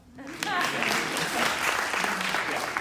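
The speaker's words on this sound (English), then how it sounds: "Please clap." An audience at a talk on choreography and technology claps in a steady wash of applause, fairly distant and moderate in level, with a voice speaking over the start.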